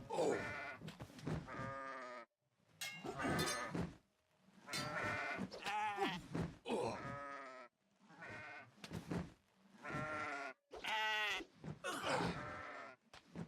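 Goats in the game Kenshi bleat again and again in loud, wavering cries separated by short gaps, with no talk over them.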